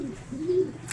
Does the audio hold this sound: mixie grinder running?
no